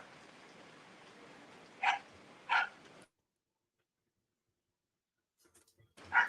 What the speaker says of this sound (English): y'all hear the dog is in the background